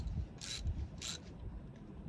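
Ratcheting wrench turned on a BMX bike during restoration, giving two short bright clicking bursts about half a second apart, close and fairly quiet over low background rumble.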